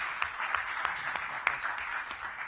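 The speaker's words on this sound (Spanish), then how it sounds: "Insisto, un aplauso para ella." Audience applause at a governance conference in Valencia, a steady, fairly faint wash of clapping with a few sharper individual claps standing out, continuing throughout with no talk.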